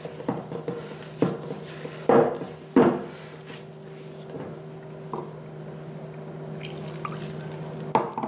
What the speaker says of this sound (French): Ensuite, je vais rajouter l'eau tiède. En même temps, je vais mélanger.